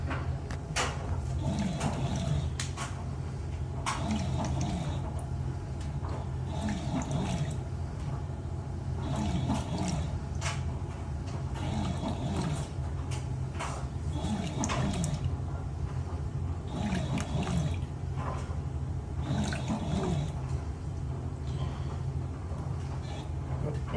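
A Fisher & Paykel Intuitive washing machine senses its load of mixed colours, the drum turning in regular cycles with water sloshing and splashing each few seconds over a steady motor hum, close and even.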